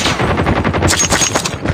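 Rapid automatic gunfire in the Call of Duty video game, a loud, dense stream of shots with no pauses, dominating throughout.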